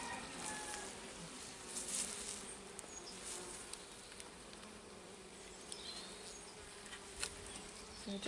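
Steady, dense buzzing of many honeybees swarming close by at an open hive, a continuous drone with occasional louder passes near the ear.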